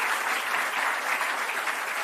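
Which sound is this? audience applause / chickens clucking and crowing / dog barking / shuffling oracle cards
audience applause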